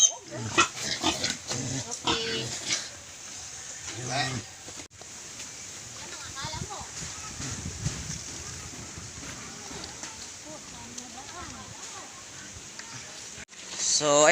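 Piglets on a rural farm squeal in sharp, high, repeated bursts as buyers catch one, loudest early on and fading back amid shuffling and background noise, with people talking throughout.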